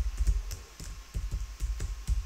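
Fingers tap out an email address on the touch keypad of a Konica Minolta bizhub copier, a quick, soft, steady run of small clicks close by.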